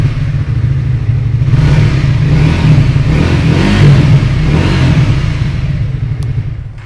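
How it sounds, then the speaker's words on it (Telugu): A 2024 Triumph T400 motorcycle with a liquid-cooled engine revs close by through its exhaust, a loud, continuous throaty roar that swells and eases over several seconds before dropping off. "ఒకసారి ఎగ్జాస్ట్ యొక్క సౌండ్ అయితే విందాం ఎలాగ ఉన్నదో"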